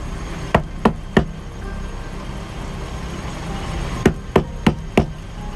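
Knocking on the outside wall of a camper van at a campsite: three sharp raps, a pause, then four more in a quick run, all heard over steady background noise.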